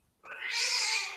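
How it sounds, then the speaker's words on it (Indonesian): A cat fight breaks out indoors during a lecture: after a short silence, a loud, sustained caterwauling yowl rises and holds steadily, close and alone with no talk over it. "ada kucing berantem."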